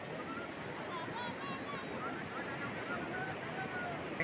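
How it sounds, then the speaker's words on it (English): Ocean surf washes onto a long beach in Goa, a steady wide wash of waves mixed with wind buffeting the microphone, with faint voices in the background. "So enjoying, so beautiful beach and longest beach in Goa."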